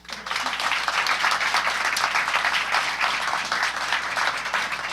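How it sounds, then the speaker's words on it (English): Members at an annual meeting and party give a quick round of applause for a volunteer, a sustained, even wash of clapping from a sizeable crowd with no talk. "So just a quick round of applause for Paul."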